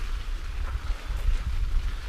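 Wind blows steadily outdoors by an old church, giving a close, low rumbling buffet with small gusty surges and no talking.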